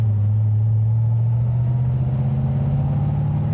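A V8 car engine drones while driving, a deep steady low rumble with a slight pitch rise, loud and continuous without talk.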